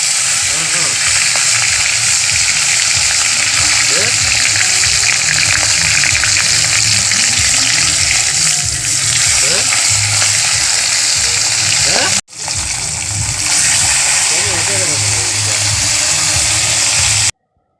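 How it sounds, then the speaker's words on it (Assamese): Fish pieces with salt and turmeric frying in oil in a small karahi, a loud close continuous sizzle with a brief break partway, and talking faintly beneath. "মই মাছ 2 পিচকৈ ফ্ৰাই কৰিছোঁ কাৰণ কেৰাহীখন সৰু"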